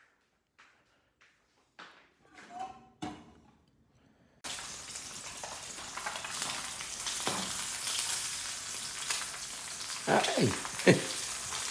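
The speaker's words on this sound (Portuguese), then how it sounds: "Ovinho frito." An egg frying in a pan at an outdoor morning coffee setup under an umbu tree: after a few light clinks and a brief exclamation, a loud, steady crackling sizzle starts abruptly and runs on with small pops.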